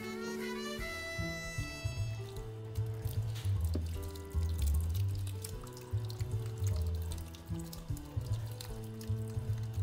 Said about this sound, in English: we are going to pour our Kha-Bang sauce on top of this now